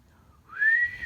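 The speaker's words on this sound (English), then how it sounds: "Why don't you take a second and try to whistle?" A single person whistles one sustained, slightly rising note lasting about half a second, clear and close, alone in a quiet room.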